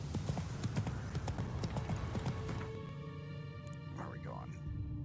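Roach, the horse in The Witcher video game, gallops with steady, rapid hoofbeats up close, fading toward the end as a brief whinny-like sound rises.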